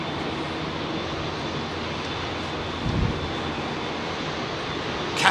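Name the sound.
Airbus A350 XWB jet engines at Heathrow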